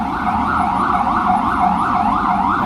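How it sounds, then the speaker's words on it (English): An ambulance siren wails on a busy Manhattan street near 42nd Street, rising and falling in a continuous loud cycle that fills the scene over low traffic rumble, with no voices. "Ambulance."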